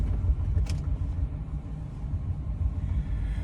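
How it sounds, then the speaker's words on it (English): A Chevrolet C6 Corvette's engine rumbles low and steady while cruising on one of the last drives of the year before winter storage, a continuous close road drone with no voices. "take my my C6 Corvette out for probably one of the last drives of the year"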